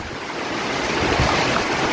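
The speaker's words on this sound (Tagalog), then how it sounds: "ngayon palakas pa ng palakas yung hangin" Loud, steady roar of typhoon gusting wind mixed with a broad rush of heavy rain, rising slightly in strength, in Santa Cruz, Laguna, Philippines.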